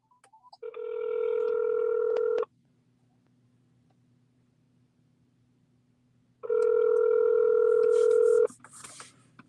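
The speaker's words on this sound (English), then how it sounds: "Yo, Steve, I want you to call 617-272-3387." Touch-tone telephone keypad tones sound in two sustained bursts of about two seconds each, separated by a quiet gap with a low hum, and a faint voice is briefly heard at the end.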